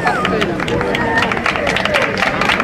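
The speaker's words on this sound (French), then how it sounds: "Applaudissements pour cette confrérie qui nous rejoint." Crowd at a crémant wine festival applauds a visiting wine brotherhood outdoors, scattered claps over a busy babble of voices and some whistle-like tones, moderately loud with people talking throughout.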